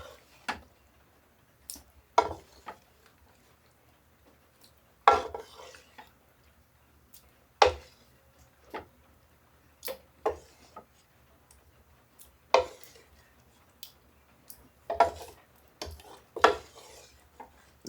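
Metal utensil clinks and scrapes as cooked beef for a Mexican beef and corn chili is moved from a frying pan into a crock pot, sparse sharp knocks spaced out over near silence.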